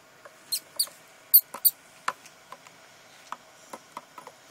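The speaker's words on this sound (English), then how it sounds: "The sound of the mouse going down." A king snake swallows a pinkie mouse, producing a sparse series of small sharp clicks and faint squeaky ticks, close but quiet, spread irregularly across a silent background.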